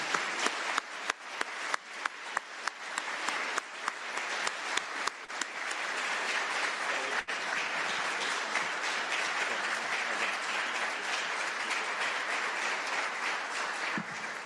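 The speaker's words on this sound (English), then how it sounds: "Let's give a big round of applause to both these candidates" Audience applause for candidates after a Washington State attorney general debate, opening with scattered distinct claps that quickly swell into a sustained, even roar of clapping filling the hall for over ten seconds.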